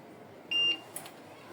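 A Nemtek electric fence energizer alarm gives a single short, sharp electronic beep, followed by a brief fainter chirp, over quiet background.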